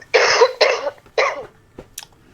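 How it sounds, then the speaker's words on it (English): A person coughs close by in a podcast setting: three harsh bursts in quick succession, followed by a couple of faint short throat sounds. "What are you coughing on?"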